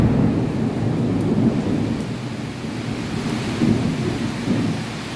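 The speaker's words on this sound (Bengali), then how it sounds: "খুব জোরে বৃষ্টি চলে আসছে, সাথে মেঘ ডাকতেছে" Heavy rain pours in a steady roar while thunder rumbles low and continuous, swelling a few times, with no speech.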